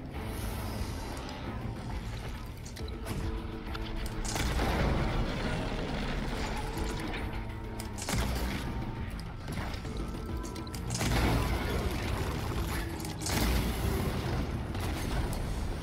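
Explosions and booming impacts during a boss fight in the video game Horizon Forbidden West, repeated heavy blasts over a dense, continuous layer of game music and combat noise, loud throughout.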